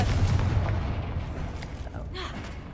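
A Confringo fire spell bursts in Hogwarts Legacy, giving a dense, booming blast that rumbles on under steady game sound for several seconds, with a further flare near the end.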